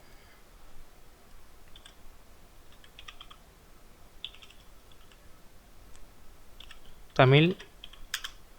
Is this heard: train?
no